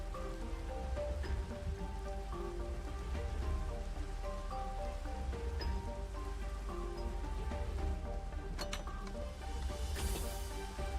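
Steady rain in Minecraft patters continuously throughout, a dense hiss of drops mixed with soft background game music.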